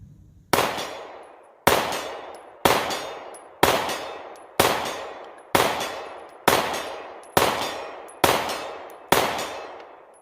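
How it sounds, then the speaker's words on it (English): Bul Armory Tac Pro 4.25 pistol firing Winchester white box ammunition, ten loud, evenly spaced shots about one second apart, each with a sharp crack and a decaying echo, no talking. "We put 100 rounds through this pistol in about 20 minutes, just using the cheap Winchester white box stuff."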